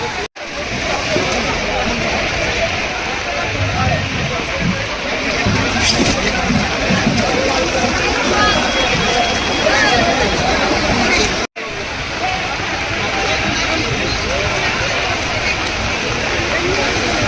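Floodwater rushes loudly and continuously through a wholesale fish market in Pune, a dense roaring wash near at hand, with a crowd murmuring faintly underneath and a brief dropout partway through.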